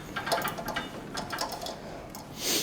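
A thread tap grinds through a hole in a classic Mini's car subframe during repair, a steady rasping mechanical churn with faint rhythmic clicks, close and continuous, no talk.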